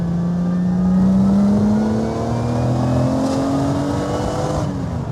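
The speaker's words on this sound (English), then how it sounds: "Opening the taps on one of the most recognised and coveted supercars on the planet." A Lamborghini Miura supercar accelerates hard on the road, its engine note climbing steadily in pitch as it pulls, loud and close, steady roar throughout with no voices.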